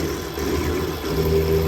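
A CNC mill with a high-speed spindle increaser running near 7500 RPM cuts a hard workpiece with a 4-flute 1/4-inch end mill, giving a steady close hum and whine with a tonal pitch that shifts partway through.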